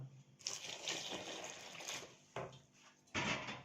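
Hot water poured into a bowl of flour and yeast while making a starter for Saidi faysh bread: a close, steady splashy pour lasting a few seconds, broken by two short pauses before resuming.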